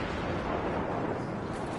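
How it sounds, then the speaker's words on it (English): Rocket launcher fire in the video game Star Wars Battlefront, a dense, sustained roar of blast noise with rumbling low end that stays loud and steady for under two seconds, with no clear talk over it. "it was a rocket launcher"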